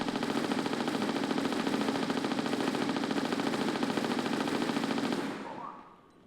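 Sustained rapid gunfire from an enemy encounter in the video game Tomb Raider: The Last Revelation, loud and continuous for about five seconds before cutting off into a short fading tail.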